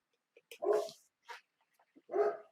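A dog barks in two loud, close bursts about a second and a half apart, with a short yip before the first and a softer bark between them.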